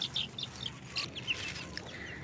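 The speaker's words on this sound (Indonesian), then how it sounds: "Nah, ini dia ayam-ayamku ya guys." Chickens at a backyard coop beside a wooden house give a run of short, bright clucks and chirps, fairly close and steady over a low background murmur, with no talk.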